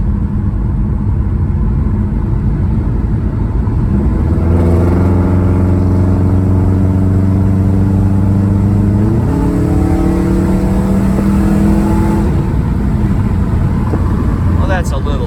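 A 2005 Subaru's engine hums steadily while driving, then its pitch climbs as it accelerates past 60 on light throttle, with a gear-like step partway through, over constant road rumble and some faint talk.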